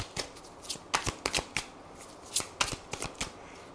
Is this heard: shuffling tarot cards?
yes